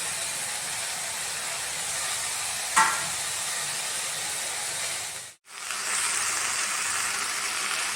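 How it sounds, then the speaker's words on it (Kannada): Greens and tomato fry in a pan for baby corn pulao, a steady broadband sizzle with a brief scrape or stir and a short dropout partway through. "ಇವಾಗ ಸೊಪ್ಪು ಮತ್ತು ಟೊಮೊಟೊ ಹಾಕ್ತೀನಿ. ಇದು ಚೆನ್ನಾಗಿ ಫ್ರೈ ಆಗಲಿ ಸ್ವಲ್ಪ ಹೊತ್ತು."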